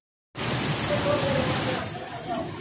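Heavy rain falls on the Karakoram Highway during flooding in Kohistan, Pakistan. A dense, steady roar of downpour starts abruptly and holds evenly throughout.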